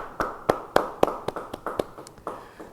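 Scattered hand claps from a church congregation at an online Bible study, about a dozen crisp, separate claps in a loose, uneven rhythm, fairly close, with no talk over them.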